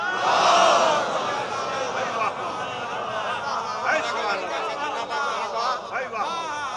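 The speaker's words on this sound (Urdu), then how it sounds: "بلند پنجتنی نعرے" Crowd at a Shia religious majlis gathering chanting loud Panjtani slogans, many voices roaring together in rising and falling calls that fade into crowd noise and scattered voices.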